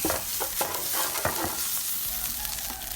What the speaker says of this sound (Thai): ด้วยไฟอ่อนนะคะผัดไปเรื่อยๆเลยนะคะผัดให้หอมจนขนแตกจมูกเลยค่ะ